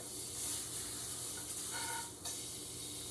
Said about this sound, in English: I had that butter sizzling on that pan